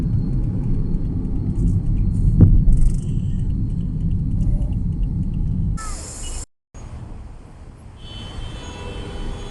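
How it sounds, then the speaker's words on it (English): Dense road traffic rumbles steadily near a busy shopping centre area in Saudi Arabia, a continuous low roar of passing cars that drops out briefly near the end. "Now you see the too much traffic and too much crowd."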